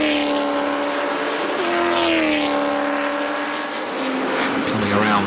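Chevrolet Lumina V8 race cars circulating at the Bahrain round of the Middle-East Championship, a steady loud engine drone with a pitch that dips and rises as they pass, under race commentary.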